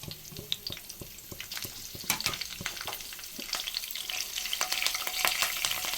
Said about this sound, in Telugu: ఇంకొంచెం పోపు అయితే వేగిపోయిందండి